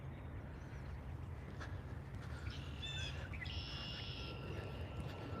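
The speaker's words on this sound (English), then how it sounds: "It's a blue jay, by the way. That's making that sound." A blue jay calls outdoors among other birds, its harsh cries standing out in the middle distance over a steady, noisy background with no talking.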